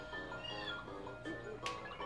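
Cat meowing in Super Paper Mario, a couple of short, faint, tonal meows over soft game music.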